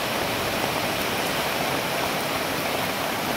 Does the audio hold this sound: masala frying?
no